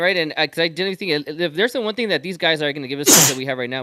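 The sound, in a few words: sneeze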